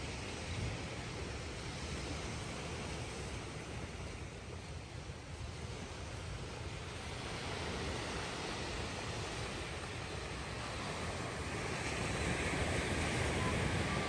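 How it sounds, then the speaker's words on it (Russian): Ocean surf on a Hawaiian beach, a steady broad wash of waves that swells slightly toward the end, with wind rumble on the microphone and no talk. "Смотрите, какой здесь пляж у нас."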